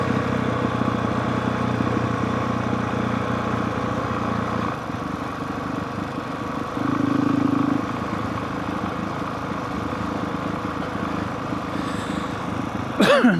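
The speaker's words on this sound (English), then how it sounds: "Probably going to hear a lot of engine braking on the way down." A motorcycle engine braking while riding down a rocky mountain trail in Farmington Canyon, a steady close engine drone throughout with a brief change in pitch midway and no talking.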